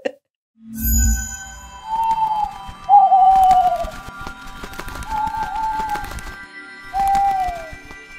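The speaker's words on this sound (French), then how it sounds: "on met quand même le vrai jingle à la suite de cette imitation absolument parfaite" A short podcast jingle plays as a sparse melody of four clear, whistle-like tones, each gliding slightly downward, over a faint hiss background.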